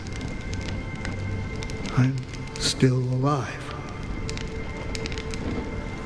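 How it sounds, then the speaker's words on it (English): Steady rain falls in a Honkai: Star Rail game scene, a continuous close hiss that runs the whole length at even loudness, with a short line of speech rising briefly over it midway. "When will this rain ever stop?"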